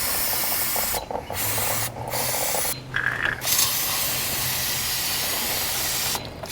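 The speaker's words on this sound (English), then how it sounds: "this brake dust cleaner will clean it all out" Brake dust cleaner sprayed from an aerosol can onto a motorcycle, several loud close hissing bursts of differing length separated by short pauses, the last long blast running several seconds, with faint rattling between sprays.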